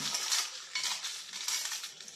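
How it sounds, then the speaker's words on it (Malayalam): Dry red chillies and coriander seeds roasting in a pan, with steady scraping, rattling and stirring of the spices against the pan, close and moderately quiet, without speech. "ഇതെല്ലാം നമുക്കൊന്ന് ചട്ടിയിലിട്ടൊന്ന് വറുത്തെടുക്കണം"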